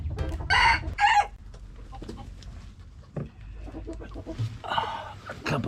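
A rooster crows loudly among a flock of chickens, several strained crowing calls near and clear, with soft clucking and farmyard murmurs in between.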